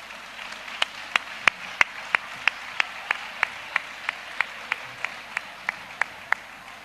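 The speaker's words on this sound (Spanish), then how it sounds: "un aplauso muy caluroso para José Siria Muñoz" Applause following a stage introduction: a run of about seventeen sharp, evenly spaced claps at a steady moderate tempo, each crisp and distinct over a quiet room background.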